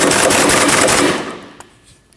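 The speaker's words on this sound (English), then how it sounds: "Install your nut and tighten it down." A pneumatic impact wrench rattles a nut onto the rear suspension through-bolt of a 2003-2008 Subaru Forester, delivering one loud, close burst of rapid hammering that lasts about a second and then stops.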